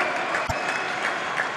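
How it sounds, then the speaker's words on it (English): A table tennis arena audience applauds steadily in a dense, even wash of clapping, with one brief thump partway through. "Huge applause from the audience."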